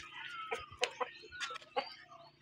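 A small rooster clucks nearby, giving several short, uneven clucks and squawks over a quiet background with no talking.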